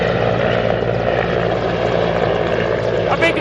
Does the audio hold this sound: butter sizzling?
no